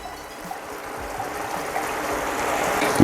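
Red wine pours into a glass in a home kitchen, a close, steady liquid trickle that grows slightly fuller as the glass fills, heard alone for a few seconds.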